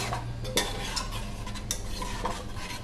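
Fish curry ingredients and tamarind pulp stirred together in a pressure cooker, a steady scraping and sloshing with clinks of the spoon against the metal pot, close and continuous without talk.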